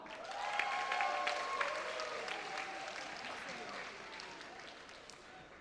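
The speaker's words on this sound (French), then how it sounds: "S'il vous plaît, applaudissez-la." Audience applause at a school talent show, a dense steady wash of clapping filling the hall that fades slowly over several seconds, with a few voices and cheers mixed in.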